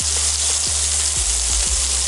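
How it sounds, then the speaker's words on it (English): Burger patties sizzle steadily in a hot skillet, a loud, continuous hiss broken by a few soft pops and crackles, with no voices. "We're gonna go ahead and add these burger patties in."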